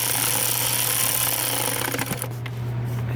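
A small wrench tightens the fuel return fitting on a 2005 Dodge Cummins, with a steady, loud mechanical drone and a low hum running throughout, easing slightly near the end.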